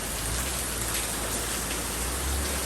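Steady rain falls on a surface in the morning, a continuous broadband hiss with scattered drop patter, moderately close and even throughout, with no voices.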